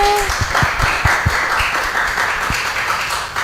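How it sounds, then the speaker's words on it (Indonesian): Audience applause with scattered individual claps at a school event, steady and fairly loud throughout with no speech over it. "Tepuk tangannya boleh teman-teman."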